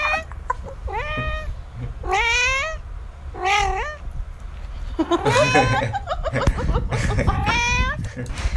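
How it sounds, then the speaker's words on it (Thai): A cat meows repeatedly, five or six drawn-out, rising and falling calls close by, with some muffled background noise between them. "น้องเหมียวน่ารักดี"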